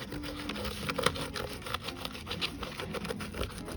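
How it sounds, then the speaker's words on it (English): Dried masking fluid is scraped off watercolor paper in quick, close rubbing strokes, a dry scratchy texture repeating steadily for a few seconds at low volume without talk. "Scrape it off."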